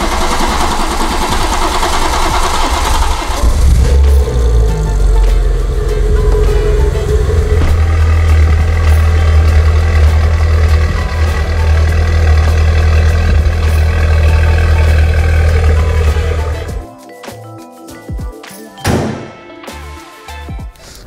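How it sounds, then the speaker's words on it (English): A BMW B58 engine with a newly installed Dorch DS25 fuel pump starts and idles, a loud steady low rumble that runs evenly for a long stretch before cutting off, followed by a few clunks and small noises. "We now need to start the engine, allow it to run for 2 minutes"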